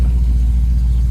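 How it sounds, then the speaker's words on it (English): BMW E92 M3 with the S65 V8 running with an exhaust leak, a loud, close, steady low engine rumble with faint ticking pulses. "exhaust leak"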